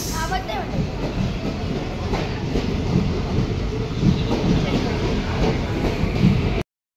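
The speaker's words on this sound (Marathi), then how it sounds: "हे बघा आमची कुडाळ एक्सप्रेस आलेली आहे" The Kudal Express, bound for Lokmanya Tilak Terminus on the Konkan Railway, rumbles loudly and continuously into the station at close range, with faint rhythmic clacks of wheels over the rails.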